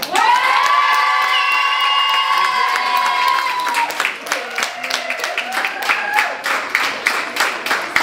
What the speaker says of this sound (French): Mes applaudissements pour Victoria Foll, Patricia Charles et Émilie Charrière, la Chocolatine, vice-championne